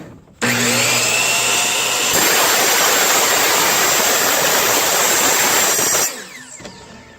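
A power tool cutting a lapping groove starts abruptly with a loud, dense whine and roar, jumps louder after a couple of seconds, holds steady, then cuts off sharply and leaves a brief fading ring.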